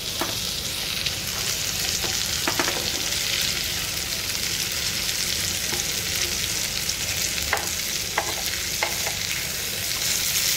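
Green tandoori chicken pieces sizzling loudly in a pan as they are flipped, a dense continuous fry with occasional sharp clinks and scrapes of the turning utensil, close and steady with no talk.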